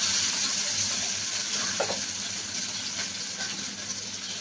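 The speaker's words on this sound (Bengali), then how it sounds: "এখন দিয়ে দিব আমি রসুন বাটা, রসুনটা একটু পেঁয়াজের সাথে ভেজে নিচ্ছি।" Garlic paste fries with onion in a hot pan, giving a soft, steady sizzle with faint stirring throughout.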